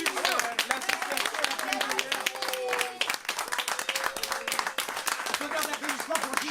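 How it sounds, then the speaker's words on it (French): Spectators at a story-and-music reading clap in sharp, rapid claps that stay close and lively, while voices talk and call out over the applause. "Et un tonnerre d'applaudissements pour Soigny qui impulse l'association."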